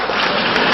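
An audience at a religious lecture bursts into dense, loud applause, a continuous wash of clapping filling the whole short moment with no voices over it.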